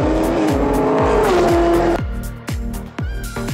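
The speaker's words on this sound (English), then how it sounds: "everybody's warming up their cars, ready to go out for qualifying" Race cars at a South Island Endurance Series circuit warm up before qualifying, their engines loud and close with sharp, repeated revs and blips in quick succession and a sustained high engine howl early on.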